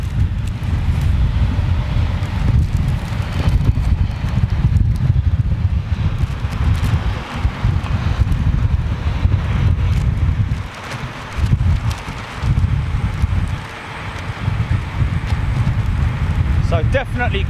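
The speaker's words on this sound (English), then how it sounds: "so definitely crosswind south westerly at the moment." A strong south-westerly crosswind at Heathrow Airport buffets the microphone with a constant loud low rumble and gusting roar throughout, with a voice speaking over it.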